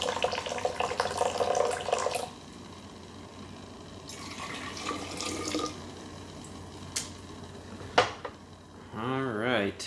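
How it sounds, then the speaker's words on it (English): Heicha tea, a 2016 sheng puerh, poured from a height into a cup, a liquid splash and trickle lasting about two seconds, then clinks and handling noises at close range, with a person speaking briefly near the end. "Okay, I'm gonna pour this high,"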